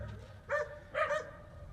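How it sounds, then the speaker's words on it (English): Two short dog barks spaced about half a second apart, moderately loud, over a low background rumble. "The dogs are all having a fit."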